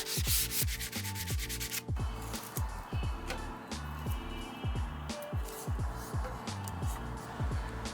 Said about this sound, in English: go around hand sanding all these pieces that I missed earlier